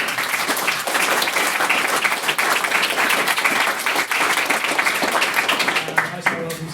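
Audience at a formal debate applauding a maiden speaker, a dense, steady wash of many hands clapping close by throughout, with a few louder individual claps near the end.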